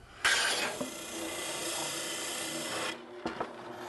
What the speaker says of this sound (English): This is called an oscillating spindle sander. Has 100 grit abrasive on it